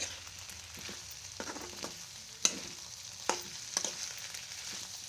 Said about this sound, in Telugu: మారకుండా అడుగంటకుండా సన్నగా పెట్టుకొని బాగా తిప్పుకుంటా వేయించుకోవాలి